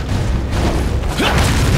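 A grenade going off in a World War II shooter game, a loud, short boom with a rumbling tail and some mechanical clatter, heard close over continuous game background noise.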